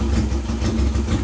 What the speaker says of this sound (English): That's idling.